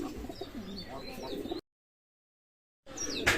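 Royal teddy pigeons, two females among them, give soft close coos and chirps, then a brief gap of silence before more calls resume.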